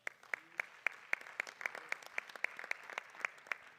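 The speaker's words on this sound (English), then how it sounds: "give her a bigger round of applause" Sparse clapping from a small audience at a school board meeting, welcoming a new district treasurer. Distinct individual claps at an uneven pace, faint and a little distant.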